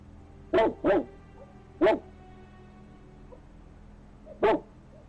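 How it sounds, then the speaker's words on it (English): A dog barks four times, sharp and fairly close: two quick barks, a third after a pause and a last one later, over a low steady background. "when Fields' dog reacts to whatever it is, chasing after the spectral presence as it vanishes into thin air"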